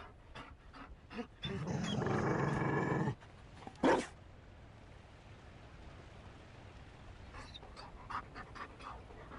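Mabari war dog from Dragon Age: Inquisition Trespasser panting in a short steady burst close by, followed by a brief louder huff, then quiet ambience with faint clicks.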